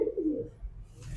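A racing pigeon coos once at close range, a soft low burble that fades into quiet background noise.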